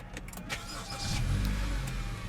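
A 2017 Honda Accord EX-L 2.4-liter four-cylinder engine starts by push button with a brief cranking whir, then settles into a steady low idle rumble.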